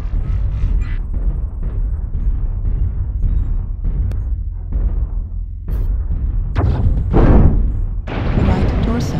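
Repeated heavy missile blasts and booming impacts in a mech combat video game, loud and close, coming in bursts with a voice talking over them.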